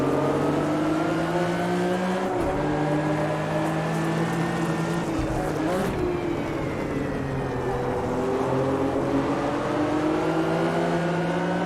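Race cars, including a Corvette, roaring around the Kyalami circuit in Automobilista 2, loud close engine whine rising and falling through gear changes, with other cars passing alongside in a continuous, busy din.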